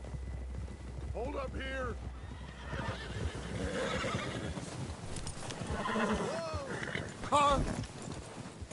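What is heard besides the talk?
horse hooves and neighing from a video game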